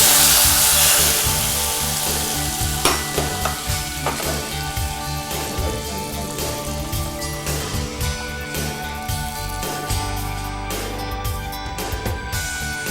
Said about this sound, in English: Let's add the tempering into the mutton